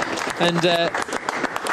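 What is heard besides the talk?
applause in the Aston Martin garage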